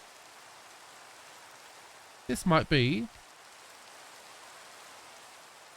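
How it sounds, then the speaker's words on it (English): Steady rain falling in Minecraft, a soft continuous hiss running through the whole stretch, with a short burst of speech partway through. "It'd be nice if it wasn't raining though."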